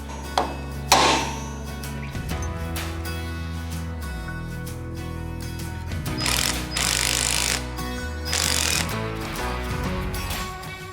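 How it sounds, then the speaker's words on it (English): A hammer works loose the locking cones on a semi-floating rear axle of a 20-year-old Toyota Land Cruiser, with a few sharp metallic strikes followed by grinding, ratcheting mechanical noises in a workshop. "You wind them out a bit, hit them with a hammer, they all pop out"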